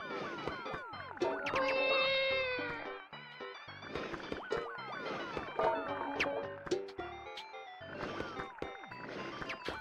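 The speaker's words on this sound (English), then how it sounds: "Now she's meowing." Midna the cat meowing repeatedly, a series of loud, drawn-out, wavering meows with short pauses between them, close by and clear.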